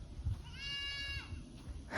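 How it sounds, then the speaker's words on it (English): A goat on a farm gives a single drawn-out distress bleat lasting under a second, clear and mid-distance against quiet outdoor background, followed by a brief rustle. "That's a goat distress call."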